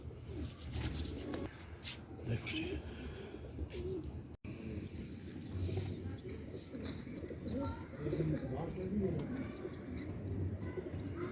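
Chogo breed pigeons coo softly in a loft, low murmuring calls repeated among rustling and wing shuffles, fairly faint and close with occasional background voices.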